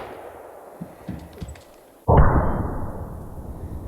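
A single loud, close blast from a 70 caliber lever action rifle firing smokeless powder, arriving suddenly midway after quieter low rumbling and lingering as a long, dense decay.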